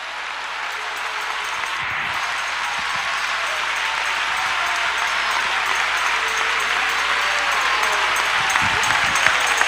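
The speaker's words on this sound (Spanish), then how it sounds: "Si le va a dar un aplauso, déselo, pero que se oiga." A church convention audience in Costa Rica breaks into sustained applause, a broad crowd clapping that swells gradually louder over several seconds, with a few brief voices mixed in.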